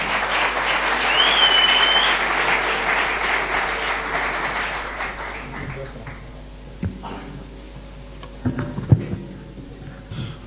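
Church congregation applauding during a Sunday worship service, a full, steady wash of clapping that gradually thins out and fades, leaving a few scattered claps and small knocks near the end.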